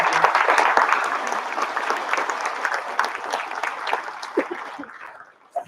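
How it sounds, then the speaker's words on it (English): Banquet guests at a 2022 Junior Bay week dinner give a hearty round of applause for a departing organizer, loud at first, then thinning and fading out, with a few last scattered claps and faint chuckles at the end. "let's give Eden a big round of applause for all of her work"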